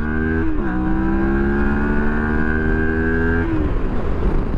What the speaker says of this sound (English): let's test this bike on the street. Let's do some acceleration testing